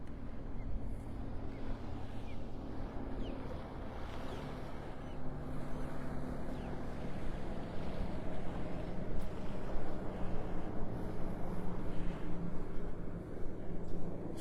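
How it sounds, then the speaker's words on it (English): A motorboat speeds in through Wiggins Pass in North Naples, Florida, early in the morning, its engine a faint, low hum that builds gradually over breezy open-water noise and wind buffeting on the microphone. "Boat coming in here."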